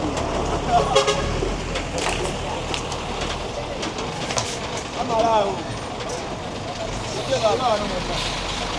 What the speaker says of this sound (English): We are entering a truck